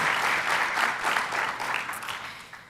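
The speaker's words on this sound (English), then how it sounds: "one more round of applause for these guys" Steady audience applause at a school board of education meeting, a dense wash of many hands clapping at fairly even strength, slowly easing toward the end.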